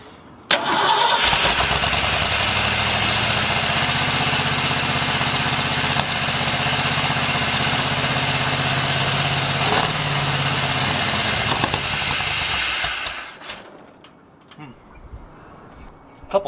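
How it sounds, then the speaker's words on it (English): A car engine fitted with a Summit Racing 600 CFM carburetor cranks, fires and runs loud and steady for about twelve seconds with a couple of backfire pops, then shuts off and fades to quiet. "Couple backfires in there."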